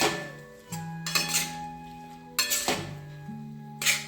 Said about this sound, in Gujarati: હવે ફાડા મિક્સ કરી દેવાના છે.